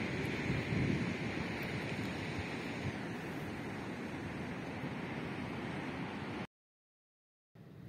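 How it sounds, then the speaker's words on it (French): Calm sea with gentle surf washing steadily near the shore, a soft broadband wash with light wind noise on the microphone, continuous for most of the stretch before a brief silent gap. "Bon, la mer est plutôt calme"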